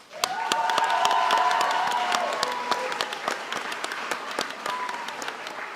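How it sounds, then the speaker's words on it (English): Audience applause fills a hall at a spring athletics awards ceremony, sustained steady clapping from a sizeable crowd with a few sharper nearby claps, holding at a fairly even level before thinning slightly toward the end. "can stand up and enjoy your applause"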